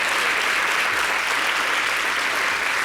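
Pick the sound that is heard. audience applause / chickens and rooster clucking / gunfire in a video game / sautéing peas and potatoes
audience applause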